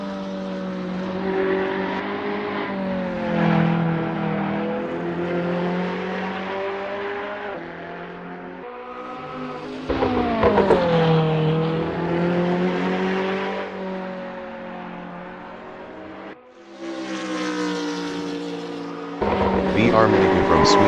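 A Ferrari 488 GT3 race car howls around the Mugello circuit in a racing video game. The engine note climbs and drops repeatedly through gear changes, with abrupt cuts between revs, and a commentator talks over it.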